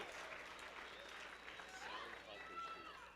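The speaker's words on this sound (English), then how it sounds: "Big round of applause for Drew's group" An audience claps for a group of graduates at a university graduation ceremony, a fairly quiet, even spread of applause held at a distance, with a voice faintly heard through it.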